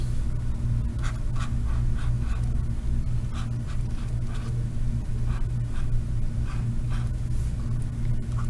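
A pen drawing a chemical structure by hand on paper, giving faint scratchy strokes in short repeated bursts over a steady low hum, close and with no talk.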